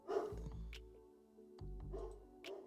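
An indoor dog barks a few times in short bursts, faint and somewhat distant, with quiet gaps between the yaps and no talking over them.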